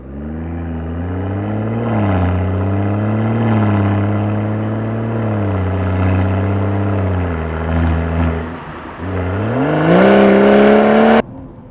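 A rear-wheel-drive BMW M240i, tuned to about 410 bhp, pulls hard in third gear on a winter road with traction control intervening. The engine note is loud and close, droning and wavering as it climbs, then surges sharply upward before cutting off.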